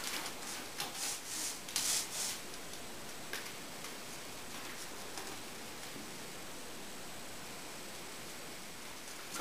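A roller spreading veneer glue mixed with pecan shells across a substrate, giving a faint, even rubbing hiss with a few light taps early on, no talk.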